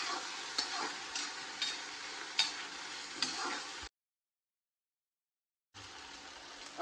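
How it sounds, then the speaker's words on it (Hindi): Onions and potatoes frying in a pan for savoury vermicelli, giving a steady sizzle with light stirring scrapes that runs for about four seconds, breaks into silence, then resumes. "प्याज डालेंगे, आलू डालेंगे, ठीक तरह से पकाएंगे।"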